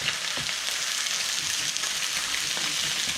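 Triggerfish sizzles steadily in a skillet, a continuous close, even frying hiss with faint crackles and no voices.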